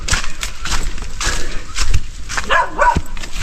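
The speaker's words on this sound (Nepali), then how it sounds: "आफ्नै घरको कुकुरले पनि भुक्न थाल्यो" Household dogs barking at night near a home on a hillside, a series of sharp barks and yips at moderate distance, some whimpering, with a few voices in the background.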